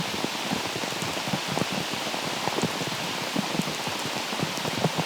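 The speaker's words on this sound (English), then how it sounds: "It's raining so hard." Heavy rain pours down on a disc golf course, a dense, steady hiss of countless drops pattering on surfaces, loud and continuous with no voices.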